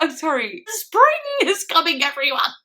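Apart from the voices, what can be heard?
None of the usual background noises is heard.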